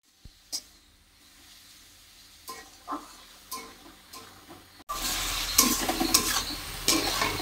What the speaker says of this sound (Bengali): তো দেখো লাউটা কিন্তু একদম হালকা ভেজে নিয়েছি